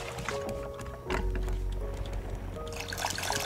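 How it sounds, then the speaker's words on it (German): Water sloshing and splashing as a container is filled from the sea in the survival game Raft, a short, soft liquid pour with gentle bubbling, fairly quiet and without speech. "Wasser auffüllen."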